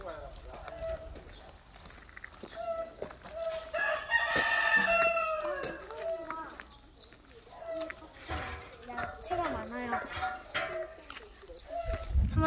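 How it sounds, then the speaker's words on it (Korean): Chickens, black and yellow, cluck and a rooster crows in an outdoor rural farmyard by a potato field, with people talking nearby over the birds. "저기 닭이 있어요."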